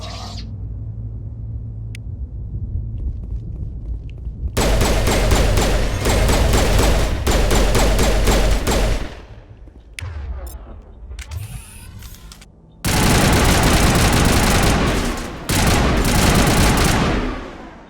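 Assault rifle fire in Mass Effect rips out in long, loud, close automatic bursts, broken by short pauses and quieter moments of clatter.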